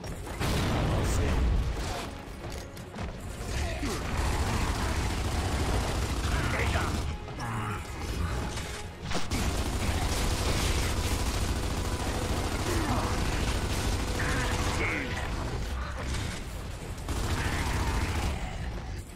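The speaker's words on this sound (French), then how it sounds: "Gare à l'explosion!" Gunfire and blasts from combat in the video game Gears of War 2, with dense mechanical clatter and rattling bursts filling the scene at a steady loud level, briefly dipping before resuming.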